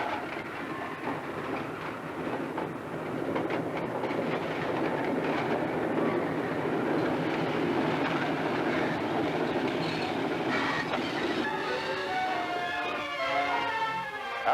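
A train rumbles steadily along the rails at close range, a continuous loud roll with faint clatter, ending in higher metallic squeals.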